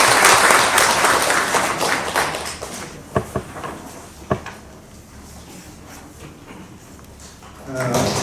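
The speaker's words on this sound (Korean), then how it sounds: "큰 박수 모시겠습니다" An audience at a symposium giving a speaker a big round of applause: loud, dense clapping that fades out after about three seconds, followed by a few sharp knocks and a quiet room before noise rises again.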